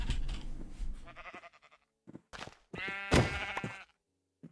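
Sheep in the Minecraft video game bleat in a few short bursts, separated by quiet gaps, fairly close and clear with no speech over them.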